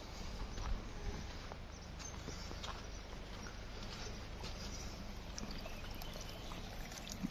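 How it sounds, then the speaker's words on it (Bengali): A mountain stream runs as a straight drain through a homestay in Ladakh, a faint, steady babble and trickle of flowing water with no voices. "পাহাড়ি ঝর্ণা স্ট্রেট ড্রেন হয়ে হোমস্টের ভিতর দিয়ে চলে গেছে, অলওয়েজ একটা কলকল আওয়াজ পাওয়া যায়।"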